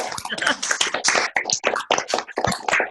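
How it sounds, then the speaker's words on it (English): An elementary school class claps together, a dense burst of many hands clapping close by, continuous for a few seconds with an uneven, overlapping rhythm. "Everybody can clap."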